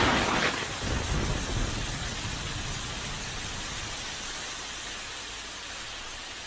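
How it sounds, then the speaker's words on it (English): Heavy rain hisses steadily as a dense, broadband wash for several seconds, louder at first with a low rumble of thunder underneath, then easing slightly, with no voices. "After the heavy rain and the strong wind,"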